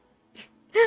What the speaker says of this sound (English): That was a terrible time for a sneeze.